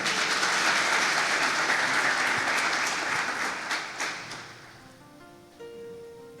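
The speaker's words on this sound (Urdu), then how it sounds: "آپ لوگ ریڈی ہیں؟ زوردار تالی۔" Loud audience applause from a large gathering, a dense roar of clapping that holds strong for several seconds, then thins and fades out as a few scattered claps linger at the end.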